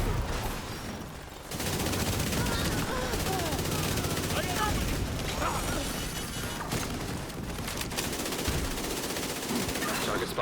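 Dense, continuous gunfire from a video game firefight, bursts of rapid machine-gun shots and crashing impacts filling nearly the whole stretch at close, loud level, with a brief drop in intensity near the start.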